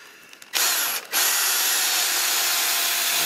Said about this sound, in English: I'll drive one into each rafter